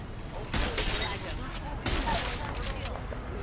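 Bursts of automatic gunfire in the video game Apex Legends, two sharp volleys of rapid shots over a continuous background, with a player talking over the action.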